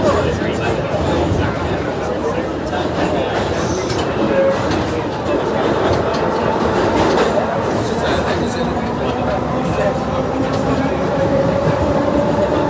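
A London Underground 1938 stock train runs through Hatton Cross station with a dense, continuous rumble and rattle of the cars, loud and steady from on board, and faint babble mixed in.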